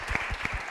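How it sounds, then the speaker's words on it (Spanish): An audience at a panel debate claps briefly, a short burst of rapid overlapping hand claps, fairly loud and close. "me gustaría que tuviéramos también un momento para aplaudir a la audiencia"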